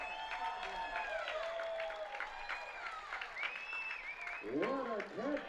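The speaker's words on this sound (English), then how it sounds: "Big round of applause." Fans at a UTRGV college baseball game against Buffalo applaud a barehanded foul-ball catch in the stands, with faint, scattered clapping and cheering under a public-address voice, building slightly toward the end.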